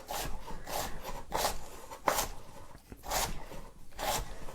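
A knife slices cabbage finely for sauerkraut in a quiet, regular back-and-forth rhythm, about eight soft rasping strokes close by, with no talking.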